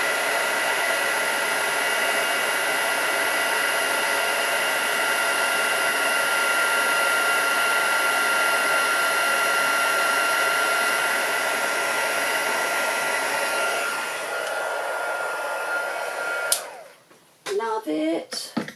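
A heat gun blasts embossing powder with a loud, steady blowing whir that dips and then cuts off near the end, followed by brief handling sounds.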